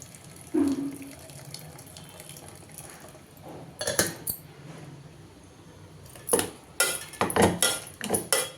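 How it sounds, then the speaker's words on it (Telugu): Cooking water is strained off boiled dal with quiet pouring and trickling, clinks of a metal pot and utensils, and a longer run of splashing pours and clattering near the end, with no speech. "ఈ వాటర్ అంతా ఇలా స్ట్రైన్ చేసేసుకోవాలి"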